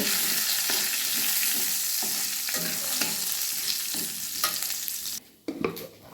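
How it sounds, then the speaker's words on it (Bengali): Dried red chillies and nigella seeds crackle and sizzle in hot mustard oil with a torn bay leaf, a steady loud frying hiss broken by stirring scrapes that fades near the end. "দুটো শুকনো লঙ্কা আর কালো জিরে ফোড়ন দিলাম ফোড়নটা ভেজে নেব"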